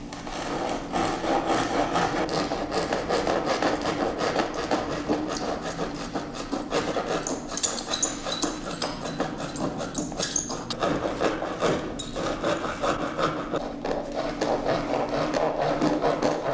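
A woodworker rasps a heart-shaped sound opening into the wooden body of a Good Friday rattle, making steady, continuous scraping strokes up close for the whole stretch.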